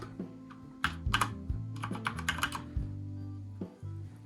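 Typing on a computer keyboard, a flurry of close, crisp key clicks in quick irregular bursts with short pauses between, no voices present.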